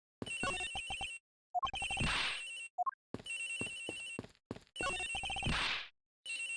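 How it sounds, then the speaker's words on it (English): An electronic cell phone ringtone chirps loudly in the Ace Attorney Investigations video game, repeating in rapid trilling bursts separated by short gaps, with quick beeping tones between the phrases. "The ringing coming from somewhere in here, sir."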